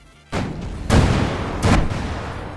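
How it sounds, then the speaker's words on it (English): Weak aircraft guns fire in a video game, popping like firecrackers: three loud, sharp bursts spaced under a second apart over a steady, busy background. "They literally are just firecrackers"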